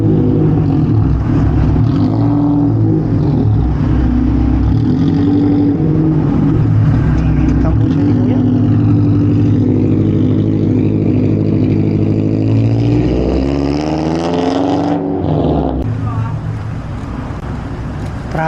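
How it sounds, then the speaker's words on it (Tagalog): Manila traffic near the CCP in the late afternoon, heard from a bicycle: a loud steady rumble of car and motorbike engines close by, with someone talking over it. "Traffic na rito sa may CCP"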